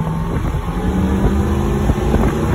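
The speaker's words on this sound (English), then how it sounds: "Small block Chevy in there." Small block Chevy V8 engine in a classic car at wide open throttle, a loud, steady, rumbling roar with buffeting wind noise, sustained without a break.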